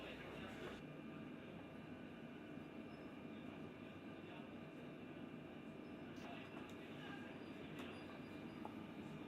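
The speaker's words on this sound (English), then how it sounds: "So then the train's moving along at least the speed of an Amtrak train" A train cruises at speed near Amtrak pace, giving a steady, faint rumble and rush of motion with occasional light clicks, heard from inside without any talk.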